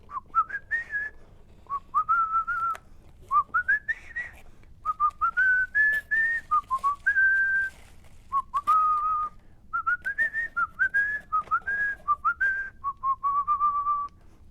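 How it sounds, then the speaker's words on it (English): A man whistles a tune alone indoors, clear pure phrases with short gaps between them, close and fairly loud, the melody gliding up and down over a faint room hum. "just had to finish the whistle there"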